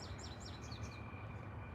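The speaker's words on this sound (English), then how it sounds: "You hear the birds, Meech?" Faint, quick bird chirps repeat in a rapid series over a steady low background hum, quiet and somewhat distant.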